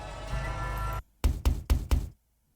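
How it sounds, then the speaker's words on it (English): Four evenly spaced, hollow knocks on a door in the video game The House in Fata Morgana, preceded by a sustained music-like tone that cuts off abruptly. "The sound of knocking echoed through the mansion"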